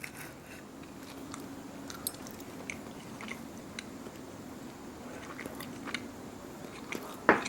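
Close, quiet chewing of a bite of dry aged steak, with soft repeated mouth clicks and squishes over a low room hum and a brief louder sound at the end.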